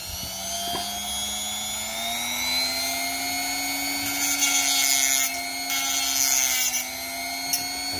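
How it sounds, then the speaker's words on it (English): A small Dremel rotary tool cuts through a copper one-cent coin, a steady high-pitched whine with a slowly rising motor tone and bursts of harsher grinding as the disc bites, close and continuous. "I got my little Dremel. I'm gonna cut a bit off this 1 cent piece and try and get it down to about 2 grams in weight."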